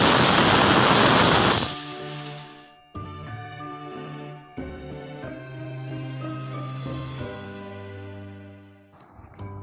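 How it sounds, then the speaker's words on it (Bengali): A pressure cooker on a gas stove, boiling banana flower, lets out a loud, steady burst of steam hiss for about three seconds before it cuts off and gentle tonal music takes over. "এবার গ্যাসটা অন করে দেব। অন করে এখানে আমি দুটো মতো সিটি দিয়ে মোচাটাকে সিদ্ধ করে নেব।"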